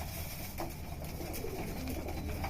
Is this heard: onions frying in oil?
no